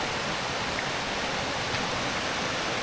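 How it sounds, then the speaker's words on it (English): Borogo Creek on the Kokoda Trail, water rushing steadily as a dense, even broadband wash with no pauses, close and fairly soft. "we're here at the Borogo Creek"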